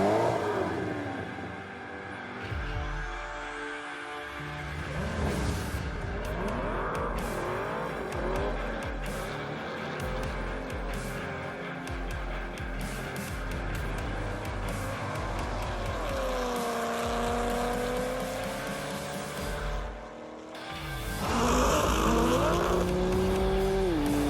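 Cars racing on a half-mile track, with engines revving and roaring past, shifting pitch as they accelerate, tires squealing and skidding, loud and continuous with a brief dip before a surge near the end.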